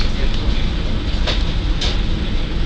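A heritage railway diesel multiple unit on the Llangollen to Carrog line running steadily, a loud continuous rumble and rattle close by, with a couple of brief hissing bursts and faint talk underneath.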